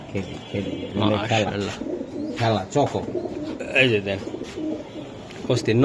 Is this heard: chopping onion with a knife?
no